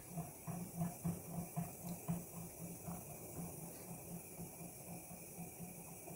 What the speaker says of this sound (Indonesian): Ini kalau udah mulai mendidih ini kita aduk-aduk ya.